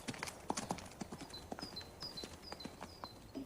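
A horse approaching, hooves clip-clopping in a steady rapid walking rhythm, moderately near, with faint high calls in the background and no talk.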